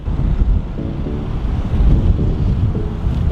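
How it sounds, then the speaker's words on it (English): Blustery wind on a golf course buffets the microphone, a steady low rumble with gusty swells, loud and close, with no other sounds. "Now it is quite blustery today"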